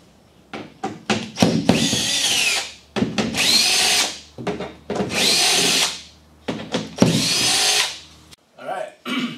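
A power drill zips bolts out of a Chevy Volt battery pack in four loud, sustained bursts separated by short pauses and lighter clattering, with a voice briefly audible.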